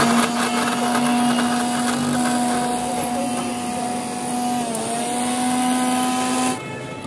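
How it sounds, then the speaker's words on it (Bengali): A kitchen mixer grinder whirs at a steady high pitch while grinding turmeric pieces into paste for herbal Holi abir, loud and close, the motor tone dipping slightly before cutting off near the end. "ওগুলোকে এখন মিক্সির মধ্যে দেওয়া হলো, দিয়ে সেটাকে মিক্সিং করা হবে।"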